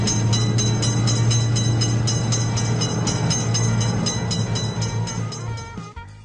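A video game train rumbles past a railroad crossing loudly with a steady rhythmic clatter of wheels, then cuts off abruptly at the end.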